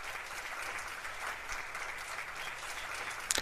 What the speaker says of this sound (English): A round of applause for our sister.